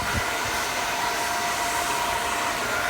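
A hair dryer blows with a steady, even whoosh, constant and close, with no other sounds.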